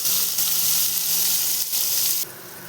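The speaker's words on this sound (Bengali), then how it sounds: "করলাটা দিয়ে দিচ্ছি, একটু লাল লাল করে ভেজে নেব।" Bitter gourd fries in hot oil with a loud, dense hiss that stays steady and then drops off abruptly near the end.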